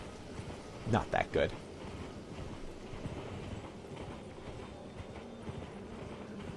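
Three quick galloping hoofbeat bursts of the horse Torrent in Elden Ring ring out near the start, then give way to steady game ambience with a voice talking over it.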